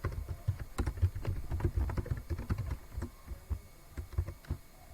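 Rapid keystrokes on a computer keyboard while entering text into a PowerPoint text box, an uneven run of close, soft clicks with no talking.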